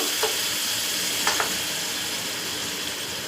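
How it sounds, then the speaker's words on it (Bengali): Spinach and coriander paste stirred in a hot pan, with a steady sizzle throughout and a couple of brief, soft spatula scrapes, no voices. "ঢেলে দিয়ে আবার একটু নাড়াচাড়া করব"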